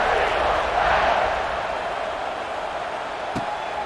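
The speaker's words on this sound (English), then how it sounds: "this crowd is buzzing after that last score" Stadium crowd in the College Football 26 video game, a steady broad roar of many voices that swells early and then settles to a constant buzz, with a brief click near the end.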